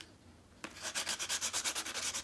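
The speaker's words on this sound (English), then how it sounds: "let's get sanding." Sandpaper scrubs rapidly back and forth across a motorcycle helmet surface, a close, rhythmic rasping that starts abruptly after a quiet moment and repeats in even strokes.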